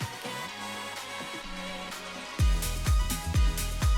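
An unmastered music track plays on its own, with softer tonal passages in the first half before a heavier section of punchy, regular low drum hits takes over.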